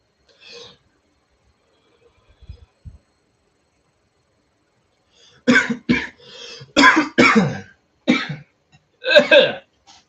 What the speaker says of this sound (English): There's some coughing.